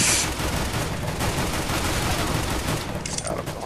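Rapid gunfire from dual Berettas in CS:GO, a dense continuous rattle of shots sustained at close range for the whole stretch, loud and steady with no pauses.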